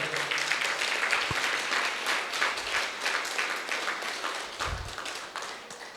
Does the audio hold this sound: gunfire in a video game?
no